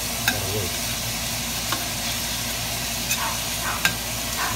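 Ground beef sizzles in a pan for a red wine beef bolognese, a steady frying hiss broken by a few sharp clicks and scrapes of stirring.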